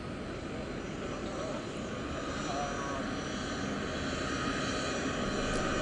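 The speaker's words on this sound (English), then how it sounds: "here comes Air Force One taxiing down the runway" Air Force One, a large presidential jet, taxis at an airport with a loud, steady engine roar throughout, heard from nearby on the ground.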